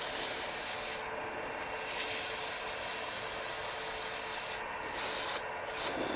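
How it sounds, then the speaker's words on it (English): Continuous abrasive sanding of a turned wooden snowman ornament hisses close up, a steady rough scratch with slight pauses and shifts in pressure, against a faint background hum. "So let's take our sandpaper real quick."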